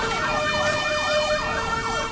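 A Corpo de Bombeiros fire brigade siren wails loud and continuous with rapid repeating up-and-down sweeps. A low vehicle rumble runs underneath.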